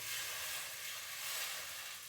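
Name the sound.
water sizzling in hot pan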